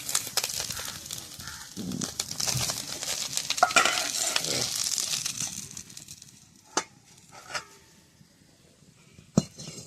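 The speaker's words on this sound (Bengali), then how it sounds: "মাছ একেবারে কড়া করে ভাজা হয়ে গেছে, তুলে নেব এবারে।" Small puti fish frying crisp in oil in a wok over a wood-fired clay stove, a steady loud sizzle for the first half that fades off, followed by a few sharp utensil clinks.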